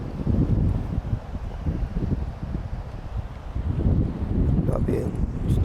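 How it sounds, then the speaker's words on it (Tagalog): Strong, steady seaside wind buffets the microphone with a continuous low roar and gusty rustling throughout. "Lakas ng hangin."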